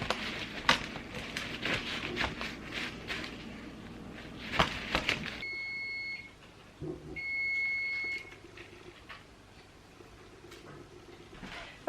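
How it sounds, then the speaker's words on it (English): A kitchen timer for a rhubarb crisp gives two short electronic beeps midway through, faint amid household clatter and cupboard knocks, without speech. "that timer is for the Rhubarb Crisp"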